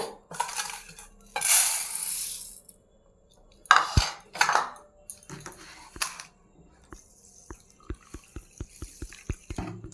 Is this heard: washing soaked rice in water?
yes